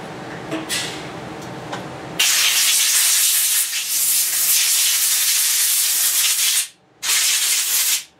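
Brake cleaner sprayed from an aerosol can onto a filthy, oily air cleaner assembly of a Weedeater push lawnmower: a loud, close, continuous hiss lasting several seconds, a brief pause, then another strong burst, after some faint handling noises.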